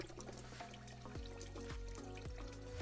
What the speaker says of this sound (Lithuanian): Nu, visgi užsipildėm gertuvės.